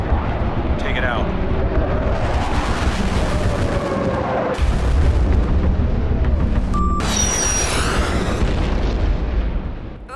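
Aircraft firing missiles at a convoy target in a canyon, a sustained roar of launches and booming blasts with whooshing streaks, loud and continuous, mixed with radio voices.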